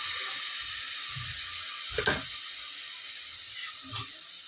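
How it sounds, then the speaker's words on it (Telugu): Yogurt goes into a hot pan and sizzles with a steady, bright hiss. A couple of soft clatters from a utensil stir through it, and there is no talking. "పెరుగు వేద్దాం ఫ్రెండ్స్."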